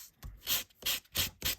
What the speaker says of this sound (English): take a sanding block and sanding off that extra